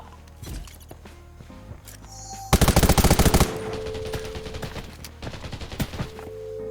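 Rapid bursts of gunfire in the video game Undawn, a loud automatic volley in the middle, with scattered shots and game sounds before and after.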